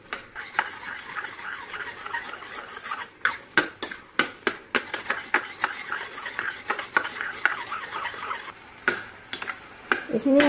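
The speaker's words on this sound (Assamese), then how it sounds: "এইখিনি এতিয়া এবাৰ দাঙি লৰাই দিওঁ।" Spoon stirring and tossing colocasia stems frying in a pan, rapid scraping and clinking strokes against the metal in quick irregular bursts over a soft background sizzle.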